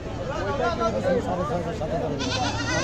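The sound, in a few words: goat bleating at a market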